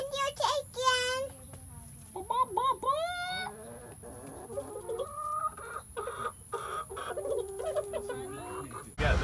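Chickens cluck and squawk near a backyard chicken coop, a run of close, varied hen calls rising and falling, with people talking in between.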